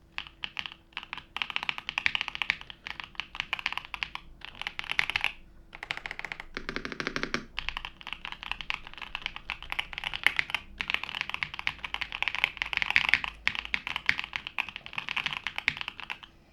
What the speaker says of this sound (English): you guys can hear how it sounds like when I press some keys